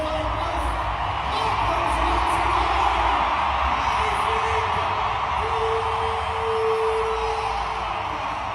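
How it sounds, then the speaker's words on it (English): Standing ovation for a Canadian women's professional hockey player from an arena crowd: a steady, dense roar of applause and cheering with scattered whoops, sustained at even loudness throughout. "Canadian hockey player Marie-Philip Poulin getting a standing ovation from the entire crowd."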